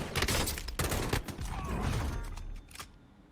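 Gunfire in the mobile shooter Warzone Mobile comes as a loud, dense burst of rapid shots with mechanical clatter, then tapers off and fades near the end.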